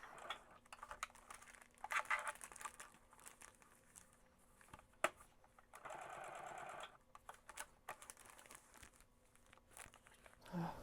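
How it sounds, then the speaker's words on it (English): A sewing machine stitches a journal made from an Amazon envelope, with short bursts of rapid needle chatter and one longer steady run, plus crinkling paper and small clicks between, quiet and close. "I really got problems with sewing straight."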